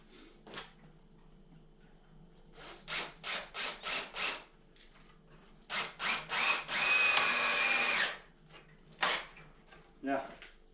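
A power drill drives a long screw into wood while building a workbench, coming in short repeated bursts and then one sustained run, with someone talking between the bursts.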